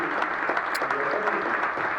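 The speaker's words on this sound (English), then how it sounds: "a huge round of applause for Emily and her family." Sustained applause from the crowd at a girls basketball game against West Mifflin, honoring a player and her family, steady dense clapping throughout with no pauses.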